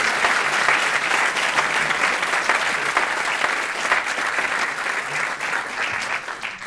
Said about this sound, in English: give them a warm welcome, please, with a big round of applause